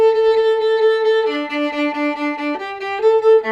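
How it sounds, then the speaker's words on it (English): A viola section plays a Haydn passage on the string, with sustained, smoothly bowed notes that shift pitch every second or so. The tone is warm and steady, close and fairly loud, with no voices. "So in the Haydn, if we were to play it on the string,"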